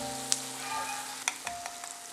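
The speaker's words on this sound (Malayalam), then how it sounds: "അപ്പോൾ പൊടിയൊക്കെ നന്നായിട്ട് മൂത്തിട്ടുണ്ട്, എണ്ണയൊക്കെ നന്നായിട്ട് ഇറങ്ങി തുടങ്ങിയിട്ടുണ്ട്." Spice powders fry in oil for a pickle, giving a quiet, steady sizzle with a few sharp clicks and scrapes as the mixture is stirred, close by, with no talking.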